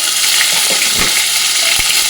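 Panch phoron, dry red chilli, black cumin, ginger paste and chilli paste frying in hot oil, a loud, dense, unbroken sizzle close up with a couple of faint stirring knocks beneath it.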